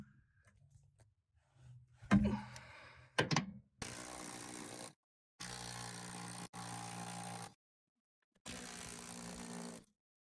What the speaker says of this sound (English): So we're gonna go ahead and get the bolt out.